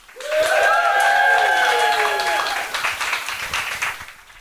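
A live London theatre audience at a Halloween special cheers loudly for several seconds, the roar swelling at once and then slowly thinning out, with whoops and clapping mixed into the crowd noise.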